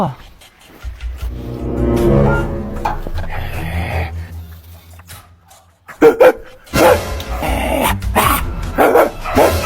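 A dog barks several times in loud, sharp bursts, partly mixed with talk and other noise in a house setting, with the barking clearest toward the end.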